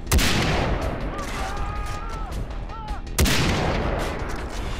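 Gunfire in the video game Far Cry 3: loud bursts of shots at the start and again near the three-second mark, over a dense, noisy battle backdrop with faint tonal game sounds between.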